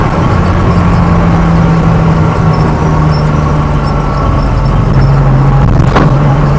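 A 40-year-old rally Porsche driving over speed humps without slowing, heard from inside as a loud, steady engine drone with road rumble and a brief jolt near the end.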